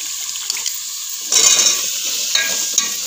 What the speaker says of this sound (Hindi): माशाल्लाह जी मसाला भुन गया है, और मैं हुण मैं आलू पा दा